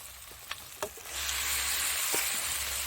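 Duck meat sizzling and frying in a pan with ginger paste and ground spices, a few soft clinks at first, then a steady loud crackling hiss that holds to the end.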